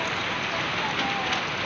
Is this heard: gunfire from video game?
no